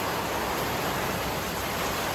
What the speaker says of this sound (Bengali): টিনের ঝমঝম আওয়াজে বোঝা যাচ্ছে যে কি জোরে বৃষ্টি হচ্ছে